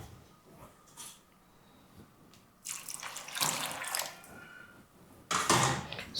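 Water splashes from a tap onto soaked beans in a bowl, preparing them for peeling to make Nigerian akara, with two strong bursts of pouring and rushing water set apart by quieter sloshing and drips.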